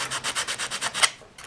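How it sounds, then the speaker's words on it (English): Sandpaper rubs super glue off a wooden model in about nine quick, even back-and-forth strokes, close and crisp, ending with a brief scrape and a short pause. "I'm just sanding off the super glue now."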